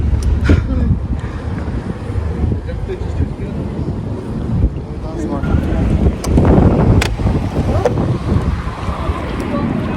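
Strong halny-type wind in Prague buffets the microphone with a constant roar and gusts throughout, while a voice talks faintly beneath it.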